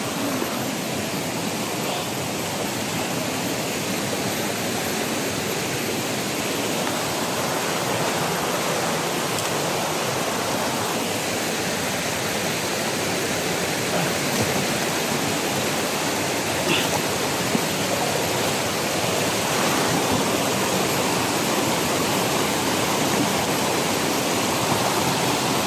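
A steady, dense rush of flowing stream water fills the scene continuously, loud and close, with no speech over it.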